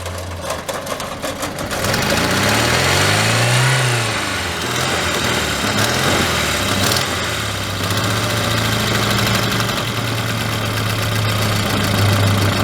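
An old Volvo car engine idles with a steady, rough low rumble that rises briefly early on, then settles into a constant throb.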